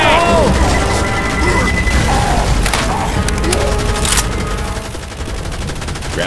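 Loud bursts of gunfire in Left 4 Dead 2 during the Dark Carnival arena fight, rapid overlapping shots and crackling volleys up close, with game voices calling out and sharp impacts mixed in.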